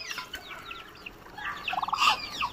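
Free-ranging chickens on a low-cost poultry farm in Assam cluck and chatter in quick bursts outdoors, several birds fairly close, growing busier toward the end, with no speech.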